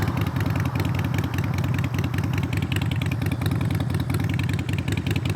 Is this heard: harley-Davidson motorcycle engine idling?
yes